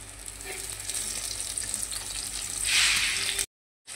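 Stuffed teasel gourd (kakrol) frying in hot oil in a pan gives a continuous close sizzle that brightens and hisses louder near the end, before the sound cuts off briefly.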